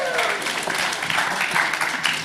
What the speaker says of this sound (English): Can you give a believe round of applause for Kenny knowing that, and for Ron Edwards